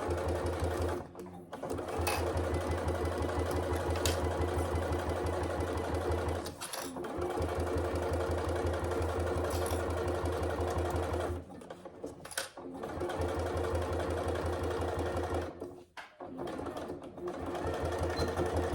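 A sewing machine runs steadily while back stitching to secure the seam on a wash bag, a continuous close motor hum with a few brief pauses.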